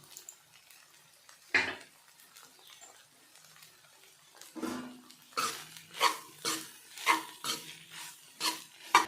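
Salted dried fish fry is stirred in a pan, a spoon scraping and clinking against the metal in a quickening series of strokes after a few scattered knocks, close and moderately loud.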